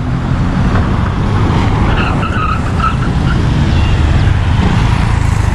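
Busy street traffic on Avenida Manuel Prado in La Molina, Lima: a steady loud roar of passing cars with occasional tire noise, close by and continuous.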